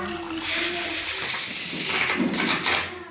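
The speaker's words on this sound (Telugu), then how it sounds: "మంచిగా ఫ్రై అయ్యాక ఇందులో మనం చింతపండు రసం పోసుకోవాలి" Tamarind juice is poured into a pan of fried vegetables for sambar, making a close, continuous splashing pour that lasts about three seconds before tapering off.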